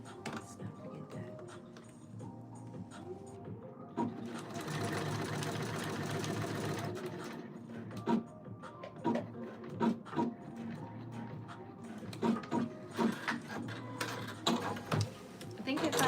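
A sewing machine stitches fabric in a long continuous buzzing run, then gives shorter start-stop bursts of rapid mechanical clatter, with someone speaking quietly between runs.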